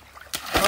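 A full bottle of shower gel drops into water with a sharp, close splash followed by a brief slosh as it sinks.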